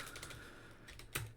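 Quiet keystrokes on a computer keyboard as a sudo command is entered, a rapid run of light clicks followed by a sharper final press, with no talking.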